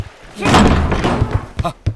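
A heavy door is kicked open on a houseboat during a police raid, giving a loud, close thud and slam with a brief rattle. A couple of sharp knocks follow as the sound settles.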